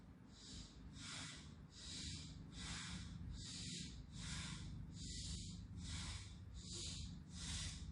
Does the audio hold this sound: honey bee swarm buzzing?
no